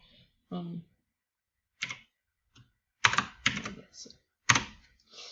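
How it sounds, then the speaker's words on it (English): Computer keyboard keys pressed during a game of Roblox Arsenal, a few scattered clusters of quiet clicks and taps close by, with brief moments of speech between them. "all I'm doing is just holding the arrow key and then just clicking the side arrows if I want to move"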